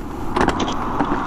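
A motorcycle stalled mid-tour fails to start, giving short electrical buzzes instead of the engine catching, two or three brief bursts close by with no talk.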